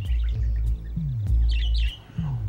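Caged pet birds chirp in short bursts of bright twittering, fairly close, over a loud low electronic hum with repeated swooping tones and sharp clicks.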